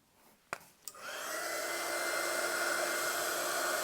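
A hair dryer drying a paint-splattered orange-themed journal page: after a couple of sharp clicks, the motor whooshes on and settles into a loud, steady blowing hum close by.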